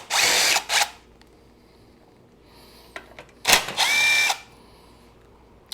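Power drill or impact tool spinning off 10 mm bolts from the shroud of a Kubota L2201 tractor, two loud whirring bursts near the start and a longer pair later, with small clicks and quiet gaps between.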